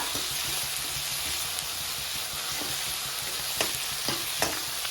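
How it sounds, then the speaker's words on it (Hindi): Green chilies and garlic fry in hot oil in a pan while being stirred, a steady close sizzle with a few sharp spatula scrapes and clicks. "अब इस स्टेज पे हम हरी मिर्च और लहसुन को भी डाल देंगे। तो इन्हें सबको चलाते हुए भून लीजिएगा।"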